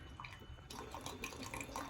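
Water trickling in a steady thin stream from a hot water heater drain, faint and close, with light splashing blips and small drips scattered across the clip.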